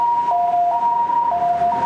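An ambulance siren sounds in a street in Chiayi, Taiwan, a loud, steady two-tone wail alternating between high and low pitches about every half second, with no voices.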